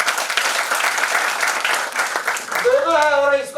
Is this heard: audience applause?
yes